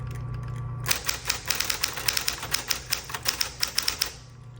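A 1960s Smith Corona Coronet electric typewriter hums steadily, then a quick run of sharp key strikes clacks out close and clear, ending as the motor hum returns.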